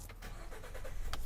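A 2015 Ford F-150 Lariat 4x4 engine turning over in a brief burst, with short cranking pulses under a broadband rumble, recorded close and fairly quiet.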